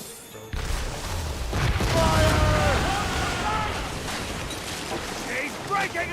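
Ship cannon fire and explosions in Assassin's Creed naval combat, with deep booms and rumbling blasts over wind and water noise, while voices shout over the action.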